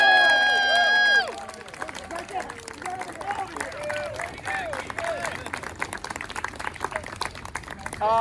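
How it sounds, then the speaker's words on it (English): A crowd claps steadily for several seconds after a brief tonal sound at the start, marking the end of a Scouts Wood Badge beading ceremony, with voices and chatter mixed into the applause. "Let's give him one big round of applause."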